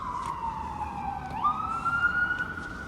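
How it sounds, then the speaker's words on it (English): An ambulance siren wails at a distance, its tone sliding up as it passes on a downtown street, over faint road hum. "that was an ambulance going by"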